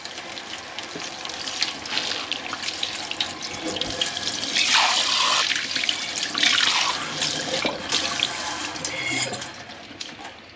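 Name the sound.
rinsing a painted tumbler with tap water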